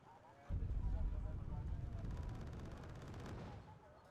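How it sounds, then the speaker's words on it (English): Artillery fire in the Wargame: Red Dragon strategy game lands as a heavy boom, then a rolling rumble of explosions and gunfire that fades out, with a commentator talking over it. "There's now even some artillery being used by National Holiday to push his advantage."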